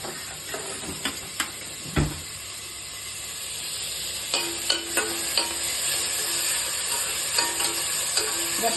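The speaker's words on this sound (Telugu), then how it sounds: "ఆనియన్స్ కొంచెం ఫ్రై చేసేసి" Onions fry in an AMC pot for avakaya biryani: a steady close sizzle and hiss, punctuated by sharp scraping clicks of stirring at irregular intervals.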